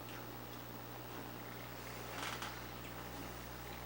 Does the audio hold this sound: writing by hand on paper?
no